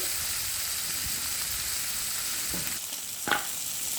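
Tomato and greens frying in a pan for a Kerala thiyyal, giving a steady soft sizzle throughout with a couple of faint clinks and stirring sounds near the end.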